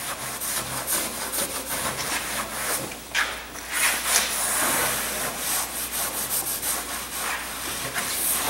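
Repeated rubbing strokes work color into a cast glass-fiber-reinforced concrete surface, a steady dry scraping and sanding texture close by that runs continuously with no talking.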